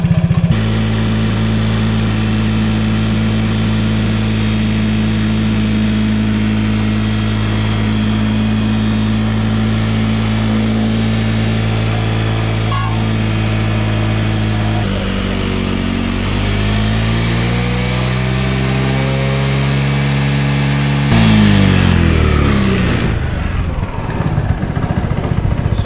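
A car engine held at steady high revs under applied throttle, droning loudly and continuously, then dropping and shifting pitch partway through before climbing again near the end, with no voices.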